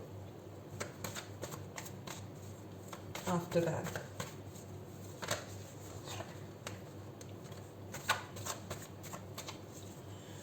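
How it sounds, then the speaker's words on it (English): Tarot cards are riffled and shuffled in quick, light bursts, with soft flutters and taps, under a quiet voice speaking briefly. "let's start the shuffling"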